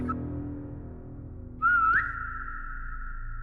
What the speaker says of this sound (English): Did you whistle?